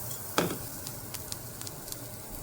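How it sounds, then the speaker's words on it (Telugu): Garlic and coriander seeds fry quietly in oil, a soft continuous sizzle with a few sharp crackles and pops, one louder spatter near the start. "దాంట్లో కొద్దిగా వెల్లుల్లిపాయలు వేగిన తర్వాత ధనియాలు వెల్లుల్లిపాయలు వేసుకోవాలి."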